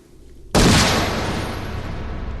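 Single loud gunshot in an Indiana Jones film scene, a sudden sharp crack after near-silence, followed by a long echoing, roaring decay that fills the rest of the moment.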